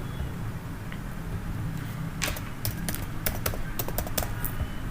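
Clicking on a computer keyboard, a brief flurry of close, crisp keystrokes in an uneven rhythm over a steady low background hum.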